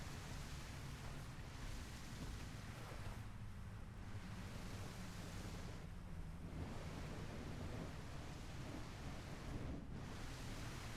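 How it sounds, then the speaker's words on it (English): Steady rain pours down in a video game town full of houses with many windows, a dense, unbroken hiss that holds close and loud throughout, with slight swells and dips but no voices. "I can't get away from the rain sound very easily."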